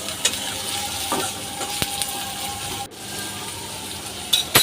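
Chopped onions frying in oil and being stirred in a pan, a continuous sizzle broken by scraping stirs and a few clinks, no speech.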